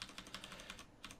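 Computer keyboard keys pressed in a quick run of separate clicks with short pauses, close and fairly quiet, as shortcut keys are struck during game programming.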